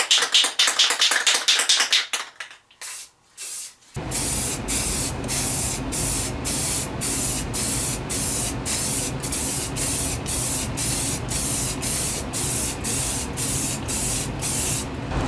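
A spray can of primer hisses in a long burst, then after a short pause releases many rapid, evenly spaced short bursts, coating homemade truck camper tie-downs in a basement. The sound is loud and close.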